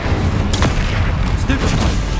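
A Bombarda explosion spell bursts in Hogwarts Legacy, a loud booming blast with a sharp crack, up close, with a character voice calling out over it.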